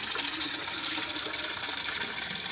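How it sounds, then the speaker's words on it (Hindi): Steady rushing water, like a stream gushing out of a pipe, continuous and fairly close, with no voices, as trapped water is cleared from a pipe for monkeys to drink. "निकाल रहा है बाहर पाइप से, पाइप के अंदर फंसा हुआ है पानी"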